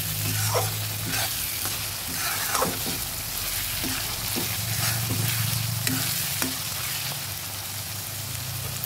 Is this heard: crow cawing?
no